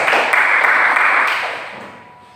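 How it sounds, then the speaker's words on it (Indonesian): Students in a classroom clap together in a short burst of applause that fades out after about two seconds. "Beri tepuk tangan untuk Angela Yunita."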